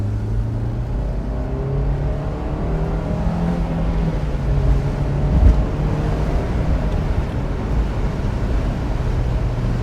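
A Honda S2000 pulls at full throttle from low revs in third gear, its engine drone rising steadily in pitch through the run, loud and continuous under wind rush with no talk.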